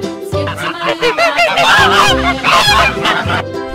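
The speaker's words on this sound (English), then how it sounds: "Goose." A goose honks loudly and repeatedly in a rapid, nasal series of calls, close and clear with no other sounds around it.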